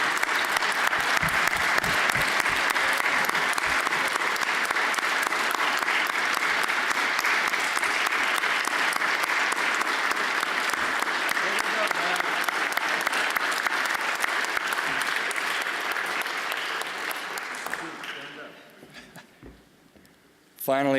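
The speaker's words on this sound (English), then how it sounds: "And if you can join me in a big round of applause." Sustained audience applause at a corporate annual shareholders meeting, a dense steady clapping that fills most of the stretch before fading out near the end.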